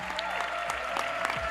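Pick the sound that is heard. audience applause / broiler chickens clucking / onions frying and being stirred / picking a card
audience applause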